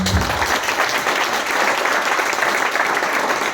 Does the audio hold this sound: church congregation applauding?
yes